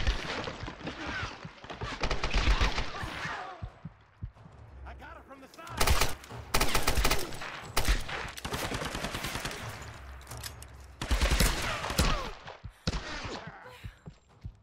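Gunfire in the Tomb Raider video game comes in repeated bursts and scattered shots, loud at times, mixed with game action while a player talks over it.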